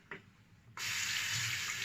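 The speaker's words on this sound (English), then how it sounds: "just put the brush under some hot water" Hot water from a tap bursts on suddenly and runs steadily into a basin, a close, even rush continuing to the end after a brief faint knock.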